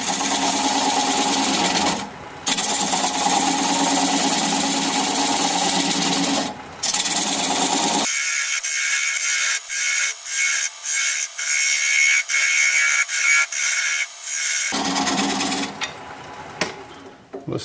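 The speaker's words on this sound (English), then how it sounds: "I'm going to grab a 3/8 inch bowl gouge and commence to removing that tenon." Black walnut on a wood lathe spun at about 550 rpm while a 3/8 inch bowl gouge cuts away a tenon, giving a steady whirring hum that breaks off with a few brief pauses and changes tone partway through.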